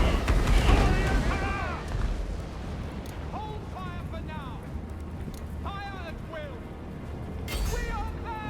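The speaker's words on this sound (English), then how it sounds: "I'm going to let my rockets just fire away" Rocket batteries fire in Total War: Warhammer, opening with a heavy, rumbling barrage of booms, then lighter thuds and battle noise continuing under a voice talking throughout.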